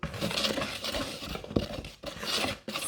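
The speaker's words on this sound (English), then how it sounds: "Right, I'm going to mix a bit more gently now." Gingerbread pancake batter is mixed gently in a bowl, a soft continuous rasping and rubbing of the utensil against the bowl with faint clinks, close and fairly quiet, with no voices.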